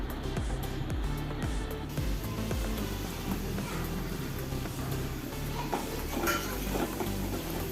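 Onion and curry leaves sautéing in a pan, a continuous low sizzle under busy scraping and metallic clinks of the utensil against the pan, near and unbroken, with no speech.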